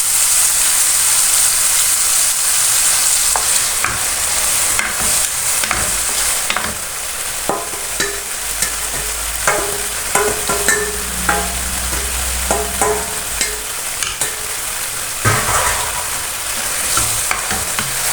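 Mashed eggplant is cooked for bharta in a sizzling masala that has released its oil, with loud, continuous frying hiss and spatter close by and intermittent scraping stirs, without speech.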